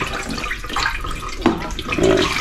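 Water runs steadily from a kitchen tap into a cooking pot used for noodles, filling it for soaking, with a splashing, gurgling rush that shifts in pitch as the pot fills; close and fairly loud.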